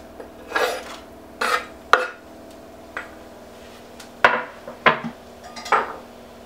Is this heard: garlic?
yes